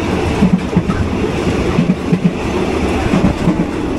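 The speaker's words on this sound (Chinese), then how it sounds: "这个火车说实话真的非常的破旧。 摇摇晃晃的。" Old, worn Thai long-distance train rattling along toward Chiang Mai, loud and close, with repeated clickety-clack wheel beats over a constant low rumble and no talk.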